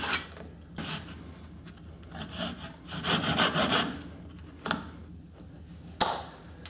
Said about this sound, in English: I'm just going to make a cut right here so I can get a nice little welding rod of plastic